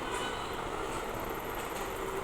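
Steady rumble and hiss around a train standing at platform 4 of Kamlapur railway station, continuous and moderately loud ambience with no distinct events and no voices.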